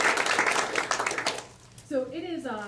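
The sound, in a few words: audience applause at an awards evening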